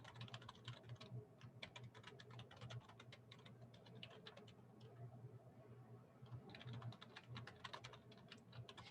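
Fingers type a name on a computer keyboard in quick bursts of close, light key clicks with brief pauses, under a low steady hum, and no one speaks.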